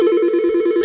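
A single steady keypad dialing tone from a phone on a FreePBX system, one clean, loud beep lasting under a second with nothing else around it.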